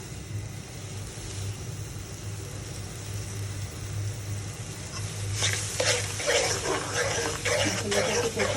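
Coriander powder, turmeric and chili powder frying in a pan, a quiet background sizzle that turns into louder scraping and stirring bursts in the latter half.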